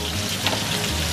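Bacon spitting in a hot pan, a dense, steady close sizzle with no pauses and no talking.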